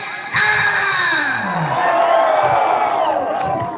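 A large crowd at a night concert cheers and whoops loudly with sustained shouting and yelling, filling the space for a few seconds.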